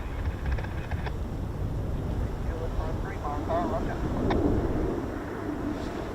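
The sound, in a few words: F-35B jet aircraft starting up and departing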